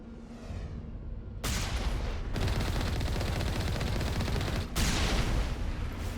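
Sustained gunfire in Mass Effect 1 Legendary Edition, a dense, rapid automatic burst starting abruptly, then continuous loud rattling shots with a brief break and resumption, no speech.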